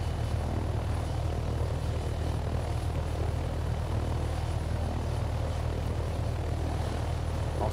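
Helicopter engine and rotor in flight in a flight-training video game, a steady loud droning roar throughout with no talk.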